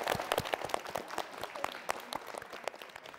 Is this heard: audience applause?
yes